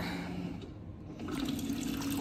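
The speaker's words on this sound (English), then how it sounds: "I need to fill up my water bottle right now." A water dispenser pours a steady stream of water into a silicone-sleeved water bottle, with a brief dip partway through and then a fuller, rising fill sound, close and fairly quiet.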